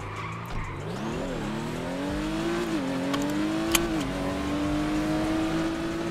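Loud car engine in a video game, revving and holding a high droning pitch while the tires squeal and skid, close and continuous, with a sharp click partway through.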